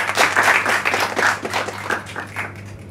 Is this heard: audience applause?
yes